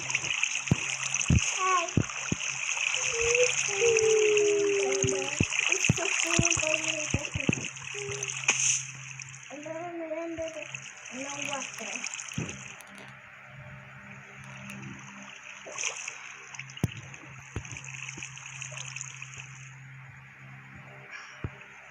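Swimming splashes in water in the Minecraft video game, with soft watery sloshing that continues steadily under children talking and game effects.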